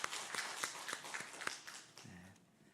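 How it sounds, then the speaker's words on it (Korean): A church congregation gives faint, scattered hand claps to welcome visitors, a quick run of soft claps that fades, with a brief voice near the end. "함께 박수로 환영해 주시기 바랍니다"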